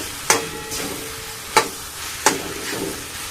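A spoon stirs fish masala curry in a pan with three sharp scraping clacks against the metal, over a low continuous sizzle and no talking.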